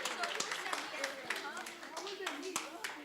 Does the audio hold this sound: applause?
yes